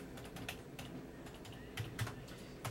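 Someone types on a computer keyboard in an office while filling in invoices, a quiet run of irregular clicks and taps at close range with no speech.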